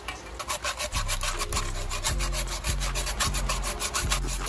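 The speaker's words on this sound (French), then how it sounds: "si on commence à scier, je pense qu'on y arrivera ou pas?" A saw grinds through a metal bike lock in quick, regular back-and-forth strokes, a harsh rasping rhythm heard up close with no voices.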